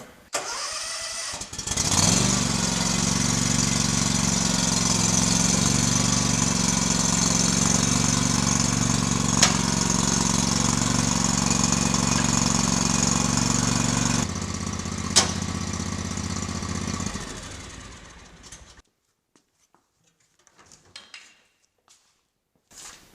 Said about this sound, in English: the smart thing to do is start up the tractor and lift the bracket